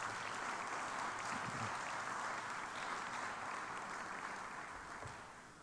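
Applause from the crowd at a sports hall of fame induction ceremony honoring KJ Cardinal, a full, sustained clatter of many hands that holds steady then gradually tapers off at the end.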